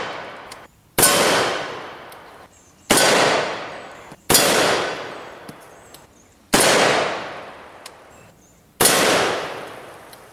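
AR-15 5.56 rounds in SS-109 strike a Linex-coated AR500 steel armor plate, five loud sharp reports spaced a second or two apart, each with a ringing metallic clang that decays slowly.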